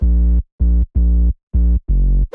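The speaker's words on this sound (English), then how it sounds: "Sub bass without effects." A deep, clean bass house synth sub bass plays five short sustained notes separated by brief silences, a steady rhythmic pattern with no added effects.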